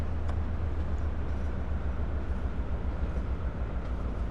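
Steady low rumble of a First Great Western Class 43 HST in Train Sim World 2, a continuous engine and rail drone running evenly throughout with no talk over it.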